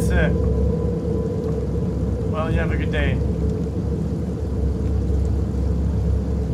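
Steady rain hisses continuously with a low rumble of thunder in the horror video game Fears to Fathom: Carson House, a constant even wash behind brief spoken dialogue.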